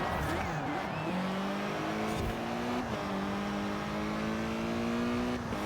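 A car engine in a racing video game played with a wheel, the motor holding a steady drone and then rising in pitch through gear changes, fairly loud throughout, with no talk over it.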